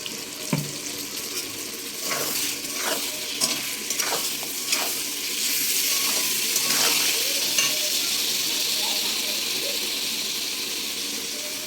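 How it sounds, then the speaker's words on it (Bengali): Ginger, tomato and onion paste for a fish curry fries in a pan, a steady sizzle running throughout with repeated scraping stirs and clinks of the spoon, heard close up and without speech. "এবার আমি যে আদা আর টমেটো পেঁয়াজ পেস্ট করেছিলাম মাছের ঝোলের জন্য, সেটা আমি পেস্ট করে নিয়েছি মিক্সারে, সেটা দিয়ে দেবো"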